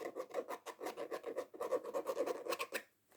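Fabric and mixed materials on a Kyrie 8 sneaker are rubbed close up, making a quiet rhythmic rasping scratch in quick repeated strokes, then stopping.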